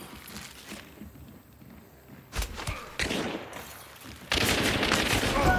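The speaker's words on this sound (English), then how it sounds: "Conversion pistol fanning." Rapid pistol fanning from a Conversion pistol in Hunt: Showdown, with sharp bursts of gunfire breaking out mid-clip and a dense, loud volley near the end, over a quiet background.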